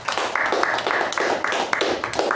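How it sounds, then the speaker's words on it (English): An audience at a Toastmasters club meeting applauds a speaker and evaluator, a steady round of close, crisp clapping with rhythmic pulses running throughout, nearly alone. "A good round of applause for the speaker and the evaluation."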